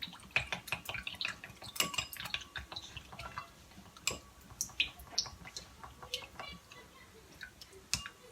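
A spoon stirring an aloe vera gel mixture in a small dish, giving a quick series of light clinks and taps, close and fairly quiet.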